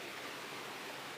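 Steady broadband rush of water flowing along a river, the Lawin river, heard close and continuous with no talk over it.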